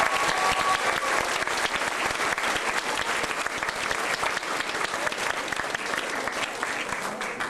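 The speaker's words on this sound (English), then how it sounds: "a nice round of applause for those students" An audience gives a sustained round of applause for Sir Winston Churchill students at a St. Catharines event, steady dense clapping filling the room from start to finish.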